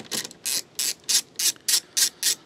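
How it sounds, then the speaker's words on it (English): A socket ratchet undoes a bolt on a Vauxhall Corsa D coolant expansion tank, giving eight evenly spaced bursts of clicking pawl in a steady back-and-forth rhythm, close and clear with no talking. "And that's to undo this bolt here"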